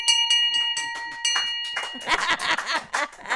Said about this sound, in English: Wishing that the second mate would strike the bell